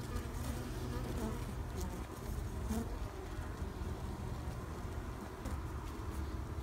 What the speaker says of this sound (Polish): I co panowie, już ten rój mamy, bardzo agresywny.